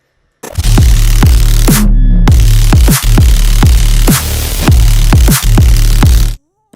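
A noise bass synth in an electronic music track pulses in steady repeated hits, loud and upfront with gritty noisy texture, a brief dropout midway, and no talking.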